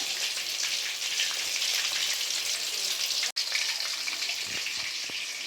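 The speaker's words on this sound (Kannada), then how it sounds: "ಕಬಾಬನು ಡೀಪ್ ಫ್ರೈ ಆಗ್ತಾ ಐತೆ." Kebabs deep frying in hot oil give a steady, dense sizzle and crackle close by, continuous with a brief dropout midway.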